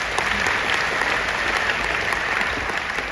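A large seminar audience applauds the invited speakers, a loud, even wash of many hands clapping that holds steady from start to finish.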